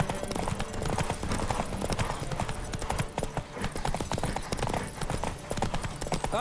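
A horse gallops at full speed in The Witcher 3, its hooves pounding out a rapid, unbroken clip-clop that stays loud and close for the whole stretch, with game ambience in the background.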